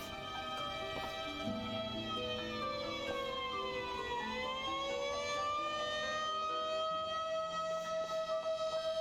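Police car siren in a Yakuza video game, a loud continuous wail sweeping slowly up and down in pitch with rich harmonics for the whole stretch, layered over game music and background sound.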